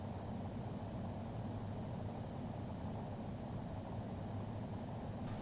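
A Boeing 737 taking off in the Flight Simulator X game produces a steady, even jet-engine roar with a broad hiss, constant and unbroken throughout with no voices.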